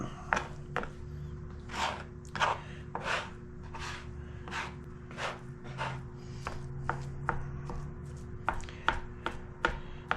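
Homemade goat cheese is crumbled and chopped on a cutting board, giving a series of soft, close, irregular chopping thuds and rubbing scrapes about every half second.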